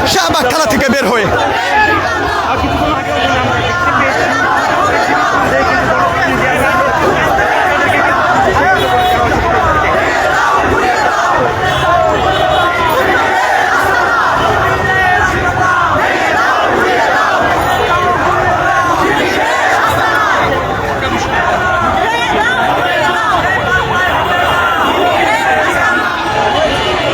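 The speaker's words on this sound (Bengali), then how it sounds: "এই মুহূর্তে বিশাল মিছিল নিয়ে ঢাকা বিশ্ববিদ্যালয়ের দিকে এগিয়ে যাচ্ছে শাহবাগ থানা থেকে বের হয়ে" A large student protest march heading toward Dhaka University from Shahbag police station fills the air with dense crowd chanting and shouting, loud and sustained throughout without pause.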